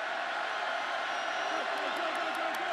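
Stadium crowd at a 2016 college football game between North Carolina State and East Carolina in Greenville, a steady roar of cheering under a commentator's talk.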